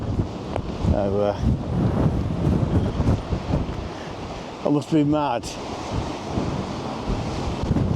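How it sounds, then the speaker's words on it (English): Strong wind buffets the microphone on Lowestoft seafront as waves surge and sea spray blows over, a loud continuous roar with someone briefly speaking over it. "Trying to get out the wind and the spray."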